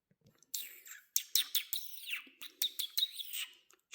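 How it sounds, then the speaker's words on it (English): Robin chirping in a storybook setting by an ivy-covered garden wall, a quick series of short, bright high chirps and trills, close and clear against quiet surroundings. ""Chirp!" cried the robin."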